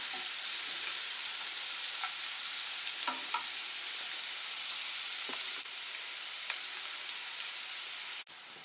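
Onions and garlic frying in a pan while cooking carp stewed in tomatoes and peppers, a steady close hiss of sizzling oil with occasional light pops and stirring clicks, ending with a sharp knock.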